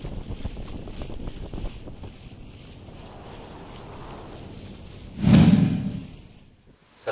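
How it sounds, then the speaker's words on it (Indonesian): Strong gusting wind buffets a boat on Lake Lindu, a steady rushing roar with a loud blast of wind against the microphone near the end, no voices. "Ombak di siang hari sangat terasa akibat hembusan angin yang cukup kencang"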